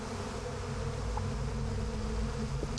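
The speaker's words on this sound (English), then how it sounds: "Want me to kill those bees?" Bees buzz in the video game Psychonauts 2, a steady, continuous insect drone holding at close range for the whole stretch, with a brief brighter accent near the end and no talk.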